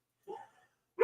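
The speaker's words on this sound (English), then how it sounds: "My dogs just started barking when I said that." Pet dogs barking indoors, two brief faint yips separated by a pause, the second louder and closer, with no talking.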